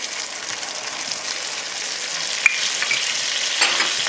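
Sherry going into a hot pan of frying cornmeal- and caraway-crusted pork chops, giving a loud, steady close sizzle with a brief splashy burst partway through; no one speaks.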